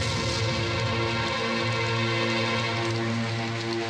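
Steady rain falls in a dense, even wash that stays loud for the whole stretch, with no voices over it.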